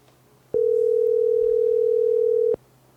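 A steady telephone dial tone plays through a podcast mixer, one clean sustained hum lasting about two seconds and cutting off abruptly over quiet background.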